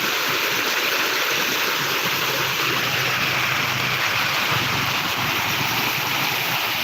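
Floodwater rushes across the Jalan Poros road near Soppeng Cabbenge, making a loud, constant broadband roar of flowing water with no break and no talking.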